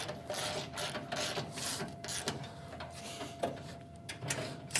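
An 11/16 socket wrench ratchets as it snugs two bolts tight on an ABI manure spreader, giving close, repeated clicking strokes in quick, steady bursts with no talking.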